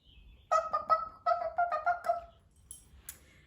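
Children imitating a chicken with their voices, a loud quick run of about eight short honking, clucking calls bunched together, then quiet with a few faint noises after.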